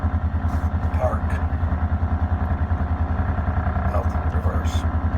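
Polaris Ranger 1000 UTV engine idling with a close, pulsing, rhythmic chug while gears are shifted, a few light clicks over the top and someone talking briefly.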